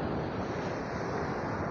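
Sea waves wash steadily onto the shore along the seafront at Finale Ligure, a continuous broad rushing roar mixed with wind buffeting the microphone, with no voices.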